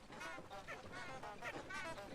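Faint ducks in the video game Hogwarts Legacy quack in a quick rasping series, with several calls overlapping at a distance under soft ambient game sound.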